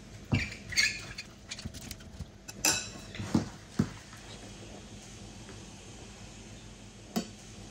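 Cheese pies are set into an oiled baking tray, giving a scattering of light clinks and soft knocks on metal, a few close taps separated by quiet gaps.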